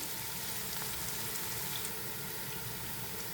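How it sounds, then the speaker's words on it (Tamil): Onions cook with salt for mutton biryani, giving off a soft, even sizzle that runs without a break and stays low and faint. "வெங்காயம் வந்து நல்லா வதங்கி கொண்டு வந்துட்டுது"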